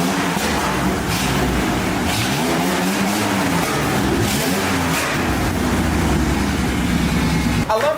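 A heavy car weighing almost 4,000 pounds with 260 horsepower accelerates at full throttle, its engine droning loudly and rising in pitch in sweeping waves from inside the cabin.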